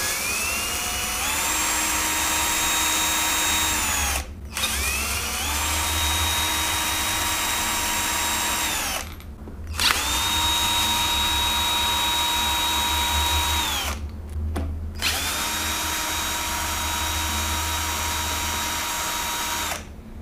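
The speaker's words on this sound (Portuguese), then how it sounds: "Vocês viram que eu utilizei a parafusadeira, né?" A power screwdriver removing screws from a 1600W hub motor, loud close whirring bursts that rise in pitch as each screw spins out, separated by short pauses, with no speech.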